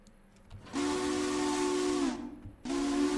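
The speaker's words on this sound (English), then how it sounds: "I don't know how I feel about that whistle." A steam locomotive whistle in the railroad game Railroader sounds in two loud, sustained blasts: a long tone of roughly a second and a half, a brief gap, then a second blast, with steady hiss beneath.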